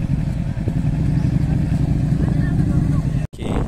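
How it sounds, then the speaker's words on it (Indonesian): A motorcycle engine putters and revs in close as the rider manoeuvres to park, a steady loud drone that cuts out briefly near the end while someone talks over it. "Ni motor sibuk nak parking"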